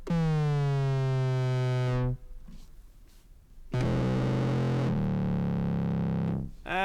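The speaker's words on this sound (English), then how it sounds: "add distortion" Synth tone run through guitar-pedal-style distortion effects, a sustained buzzing gritty note that cuts out briefly, then returns with a thicker, harsher fuzz before stopping.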